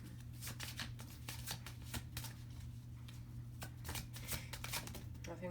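Goddess Guidance Oracle cards are shuffled by hand at close range, giving quick bursts of riffling flutters over a low steady hum.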